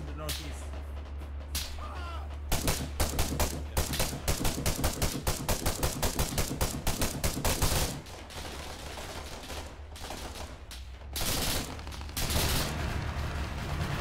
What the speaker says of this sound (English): Shots in the northeast.